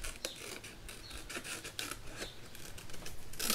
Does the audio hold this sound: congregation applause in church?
no